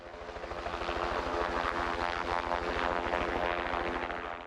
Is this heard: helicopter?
yes